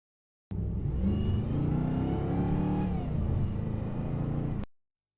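A McLaren SLR 722 sports car on a test drive, its engine revving loudly and steadily up close, a continuous rumbling roar with rising pitch sweeps throughout, no talk.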